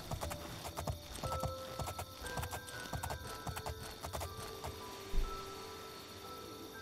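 Steady clip-clop of horse hooves at a trotting rhythm in the video game Oblivion, with game-style tones and chimes underneath and a brief thump near the end.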